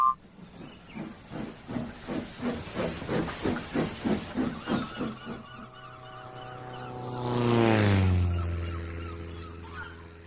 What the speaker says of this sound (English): That plane's making a great deal of noise, said Percy to Oliver.